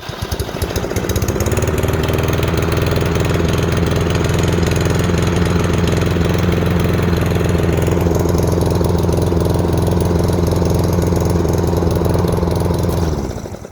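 A self-propelled, front-wheel-drive battery-operated lawn mower runs steadily and loud nearby, with a constant motor hum and whirring blade that holds even for most of the stretch before cutting off at the end.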